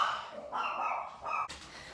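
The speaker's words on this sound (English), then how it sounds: "And what are you barking at?" A pet dog named in passing barks indoors, giving several short, fairly close yips and barks in a quick broken run, with a brief sharp burst near the end.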